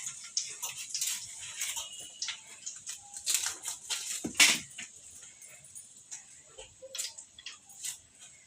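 A knife chopping an onion in a home kitchen: quiet, irregular series of crisp taps and slices on a board, fairly close, with small pauses between cuts and no talking.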